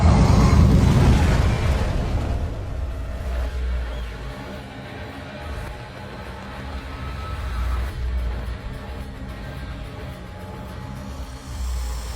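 Fireworks from a Rozzi's Fireworks show burst in a loud, dense opening barrage, then settle into a steady rumble of continuing distant booms and crackle.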